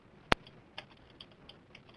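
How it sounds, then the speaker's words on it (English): Scattered keyboard typing in a meeting room, several faint, sharp key clicks spaced unevenly, quiet and without talk. "Many people typing right now."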